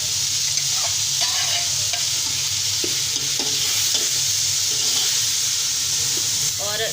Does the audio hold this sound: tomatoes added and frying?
yes